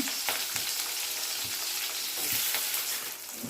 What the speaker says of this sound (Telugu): ఇప్పుడు పచ్చిమిర్చి ఉల్లిపాయ వేసుకొని కలుపుకోవాలి వేగే వరకు